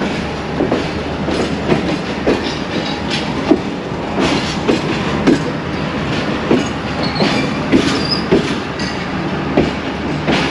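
A Pakistan Railways train at a branch line station gives a loud, continuous rumble with rhythmic clatter and scattered metallic squeals throughout.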